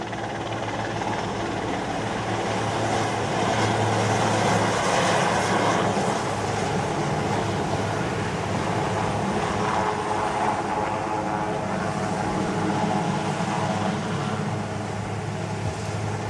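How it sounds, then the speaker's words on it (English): A military helicopter hovers during a navy extraction demonstration at Navy Day celebrations in Thiruvananthapuram, its rotor and engine producing a continuous loud roar that stays steady and close throughout. "Helicopter से लटकना काफी मुश्किल और जोखिम भरा है।"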